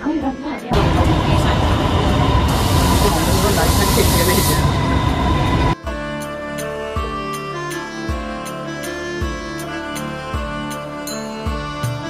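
Bangkok MRT metro train, a loud broadband rumble and hiss of the moving carriage for several seconds, then a steadier rhythmic hum with periodic low thumps of wheels on track joints.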